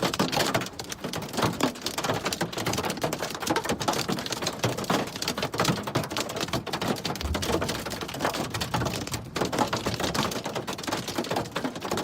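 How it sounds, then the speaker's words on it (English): Tennis-ball-sized hailstones hammer a car windshield during a storm in Shamrock, Texas: a dense, constant barrage of sharp, close impacts, loud and unbroken throughout, with no voices. "You can hear the massive hailstones hitting the windshield."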